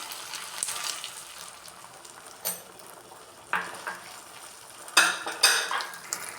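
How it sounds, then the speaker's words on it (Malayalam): Cornflour water for chilli chicken is stirred and poured into a pan, with faint sizzling and several close clinks and scrapes of a utensil against the pan at irregular intervals. "ഇനി ഇതിലേക്ക് നമുക്ക് ഇച്ചിരി കോൺഫ്ലോർ വെള്ളം ആഡ് ചെയ്ത് മിക്സ് ചെയ്ത് ഒഴിച്ചു കൊടുക്കാം"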